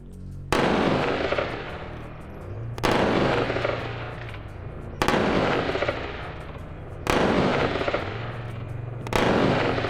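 Rifle gunfire through a Surefire SF3P flash hider at a high-angle shooting match: five sharp, loud shots spaced about two seconds apart, each followed by a rolling outdoor echo.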